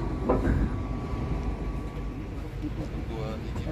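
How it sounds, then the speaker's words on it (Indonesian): Passenger train rolling into Cibatu station, a steady low rumble and rattle of rail cars with a faint whining tone, continuous and fairly close, with indistinct voices in the background. "Saat ini kereta api masuk stasiun Cibatu"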